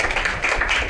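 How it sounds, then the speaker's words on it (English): An audience at a business and media fireside chat claps for the panel, a brief steady patter of many hands. "Please give our panel a round of applause"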